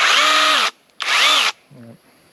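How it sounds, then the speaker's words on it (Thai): Two bursts of a high-pitched motorized saw whine cutting durian tree branches, each under a second, separated by a short pause, followed by a brief low tone. "โดยใช้เลื่อยนี่ครับ"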